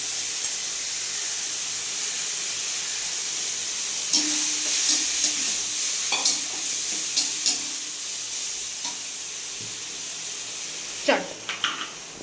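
Grated mango for chutney fries in a pan with a steady soft sizzle and hiss. Irregular scrapes and clinks of stirring come and go, and a voice is heard quietly.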